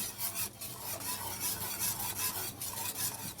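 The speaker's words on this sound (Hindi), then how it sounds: "मुस्तकिल से हैंड बीटर से मिक्स करते रहेंगे।" A hand beater works condensed milk into a pudding mixture, making a steady close rasping and whirring churn with faint rhythmic scrapes against the bowl and no voices.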